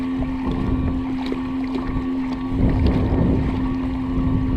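A steady Bixpy electric motor hum drones on a Feelfree Moken 12.5 V2 kayak, with a constant tone under wind buffeting and water splashing, fairly close.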